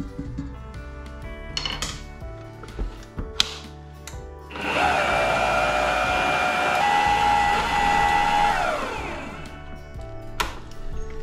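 An electric mixer whirs steadily through cake batter for several seconds, starting abruptly and running loud and continuous before winding down, with scattered clinks and handling noises before and after.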